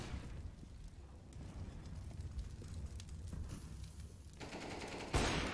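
Rapid, sustained gunfire from the game Counter-Strike: Global Offensive crackles nonstop at a steady moderate level, with a sharper, louder burst of shots near the end.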